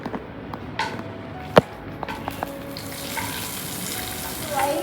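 Fried cashew nuts are tipped into payasam, a clear knock followed by a few light clicks, then a soft, steady sizzle that builds slightly toward the end.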